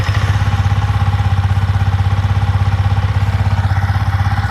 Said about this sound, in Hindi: तो चलिए बाइक को स्टार्ट करते हैं और फ़ैन ऑन होने तक का इंतज़ार करेंगे।